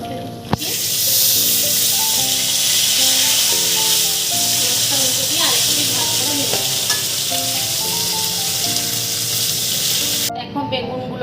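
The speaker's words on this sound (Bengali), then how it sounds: "মাছের এক পিঠ ভাজা হয়ে গেছে। এবার আমি মাছটা উল্টে দিচ্ছি।" Fish fried in mustard oil after being flipped in the pan crackles with a loud, close sizzle, preceded by a sharp knock and continuing steadily over a faint background melody before cutting off.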